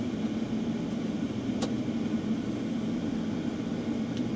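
Claas Jaguar forage harvester running up after starting, a steady low engine drone with a constant hum, heard from inside the cab, moderately loud with a few faint clicks.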